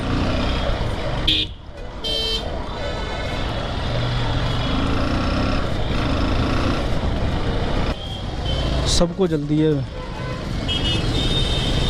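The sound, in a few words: Delhi road traffic with car horns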